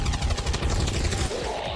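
Rapid burst of gunfire in the video game XCOM 2: War of the Chosen, a dense rattle of shots crackling over a low rumble, loud and continuous for a couple of seconds.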